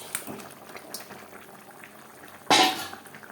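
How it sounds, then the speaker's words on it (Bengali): Thick tilapia fish gravy with potato and cauliflower bubbling in a pot, with soft plops and one louder burst of bubbling near the end, no talking. "দু তিন মিনিট গ্রেভি বেশ ভালো করে ফুটিয়ে নেওয়ার পর"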